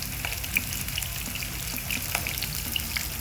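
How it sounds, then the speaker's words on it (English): Ahi tuna steaks fry in a pan with a steady, close sizzle and scattered small pops and crackles throughout, with no voices. "We're gonna let them fry up for about 2 minutes aside"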